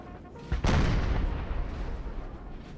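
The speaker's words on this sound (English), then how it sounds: "Maybe it's just people getting hit by artillery, I think, at the moment." Artillery fire in the video game Napoleon: Total War during a Battle of Leipzig 1813 scenario: a heavy cannon boom bursts out and rolls away over a dense, continuous rumble of distant battle noise.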